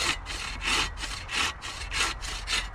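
A bushcraft saw cuts through wood in even back-and-forth strokes, about five rasping pulls in under three seconds. The sound is close and alone, with no talking over it.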